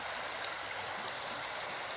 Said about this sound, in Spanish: Vea usted cómo está el río